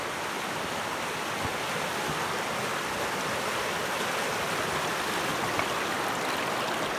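Water rushes through the head of a gold prospecting sluice in Australia, a loud, steady broadband wash that holds without a break, close by and with no talking.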